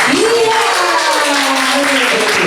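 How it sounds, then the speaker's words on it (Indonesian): Audience applause at a communal film screening with a pastor and friars: a dense, steady wash of clapping lasting the whole moment, with a voice speaking over it. "Tepuk tangan dulu."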